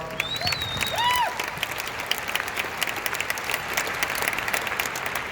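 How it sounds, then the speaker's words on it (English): An audience gives a moderate round of applause at a gathering in Las Vegas, a steady wash of clapping with a few brief whistle-like tones near the start. "give a round of applause."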